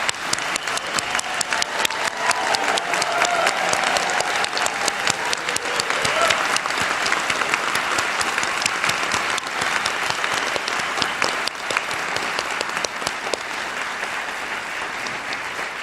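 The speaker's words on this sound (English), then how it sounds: "I'd like to call upon friends and family of our graduates to please give an enthusiastic round of applause" Friends and family of graduates at a college commencement ceremony give a long, enthusiastic round of applause, dense and steady clapping from a large crowd sustained throughout without a break.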